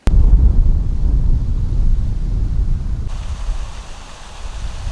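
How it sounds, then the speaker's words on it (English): Strong wind in northern British Columbia buffets the microphone in a continuous low roar, gusting steadily outdoors with no voices. "it's starting to get really windy out"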